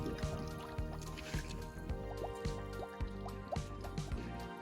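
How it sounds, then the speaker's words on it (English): Water from a hose fills the tubes of a stock tank pool filter, a quiet trickle with repeated soft drips and gurgles over a low steady hum. "it's time to take the water and fill up our tubes"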